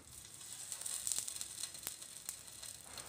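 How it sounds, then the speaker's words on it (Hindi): Potato tikki patties hit hot oil in a pan and sizzle softly, with a faint steady crackle and a few sharp spits, close by and quiet, with no voices. "पैन गरम हो गया है, इसमें थोड़ा सा तेल लिया हुआ है हमने। अब हम इसमें टिक्कियां डालेंगे।"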